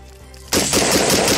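An Adams Arms P3 rifle fires a rapid burst during a sand torture test. After a half-second lull the shots start abruptly, loud and close, and continue as a dense string of cracks until the end.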